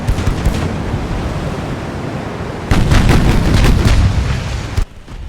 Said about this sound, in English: New York's secondaries are even opening up now